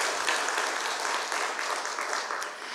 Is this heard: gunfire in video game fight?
no